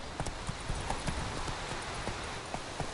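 Hoofbeats of Roach, a horse galloping in a video game, pound in a fast, steady rhythm close up, with no talk over them.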